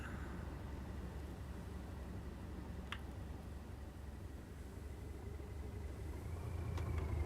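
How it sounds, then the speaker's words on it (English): A train engine idles steadily in a dark rail yard in Train Sim World 6, a low continuous rumble with a faint hum and occasional clicks, no talking. "I hear an engine."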